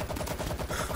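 Rapid repeated gunfire from a weapon in the World War Z video game, a steady run of close, loud shots with a regular rhythm and no talking.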